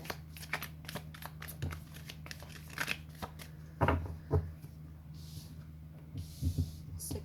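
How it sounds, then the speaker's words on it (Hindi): Tarot cards shuffled by hand, a quick series of soft riffling flicks and taps, close and fairly quiet, with a few louder bursts and light breathing in between. "शफल कर लेते हैं गाइस"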